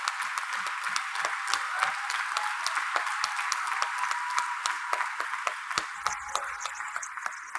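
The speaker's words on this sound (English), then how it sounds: "Please give big clap to our Chief Justice" Audience at a university convocation ceremony applauds the Chief Justice, steady dense clapping sustained throughout with no voices over it.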